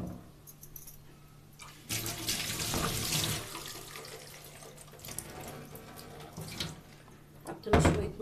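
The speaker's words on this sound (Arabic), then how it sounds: "حطينا شويه ميه عليها عشان تمشي معانا كده في الخلاط" Water runs from a tap in a steady gush for several seconds into a blender, then stops, followed by a brief splash and clatter near the end.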